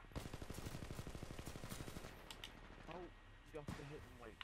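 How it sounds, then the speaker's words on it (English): Rapid automatic gunfire in the video game Titanfall 2, a dense burst of shots for about two seconds, then a few scattered single shots, with a voice speaking over the later part. "That was terrible shooting, but at least I killed him."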